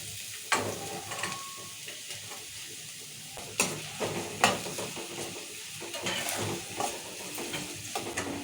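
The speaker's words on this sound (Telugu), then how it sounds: "మిరపకాయలు ఈ ఉలిగాడలు మంచిగా గోధుమ దగ్గర వేయించుకున్నాము" Finely chopped chillies and onions fry in a pan for desi-style pasta, browning in a steady close-up sizzle. Occasional louder scrapes and knocks come from the stirring spoon.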